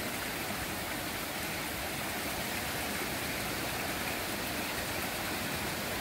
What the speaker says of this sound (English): Gonna cross the old Ryby Creek.